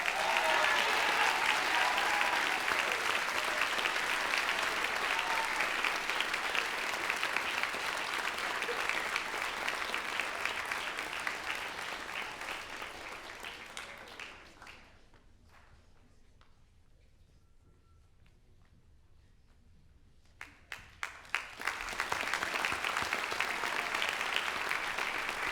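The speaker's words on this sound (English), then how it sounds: "Let's have a big round of applause." An audience at a high school junior and senior awards night gives sustained, dense applause for award recipients. It fades to near silence midway, then a few scattered claps rise back into full clapping.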